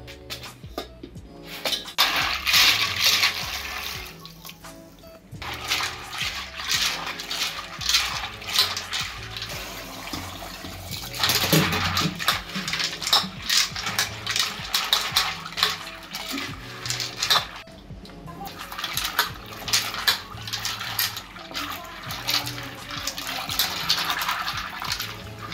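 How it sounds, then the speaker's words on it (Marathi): Water splashes and runs as pasta is rinsed several times in a bowl, with continuous sloshing and gushing interrupted by brief pauses and occasional clinks of the container, all close and fairly loud, with no talking. "3 ते 4 वेळेस आपण पास्ता स्वच्छ धुवून घ्यायचा।"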